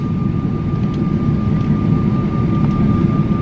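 Steady low roar of a passenger airliner cabin as the plane comes in to land at an airport serving Seoul, a continuous loud drone with a faint constant whine above it.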